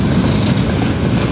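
Freight wagons full of coal roll by nearby in a continuous heavy rumble with light rhythmic clatter, loud and unbroken over a brief stretch.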